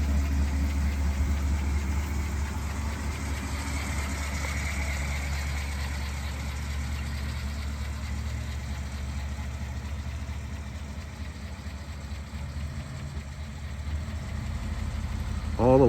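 A 1957 Ford Thunderbird's engine runs at a steady idle, a continuous low rumble close by that holds evenly throughout, with faint background noise and a brief rise right at the end.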